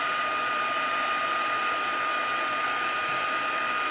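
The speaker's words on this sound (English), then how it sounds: "now I'm going to heat emboss" Heat gun blowing for heat embossing a card, a steady, loud, even airflow whoosh with a constant motor whine, running alone without pause throughout.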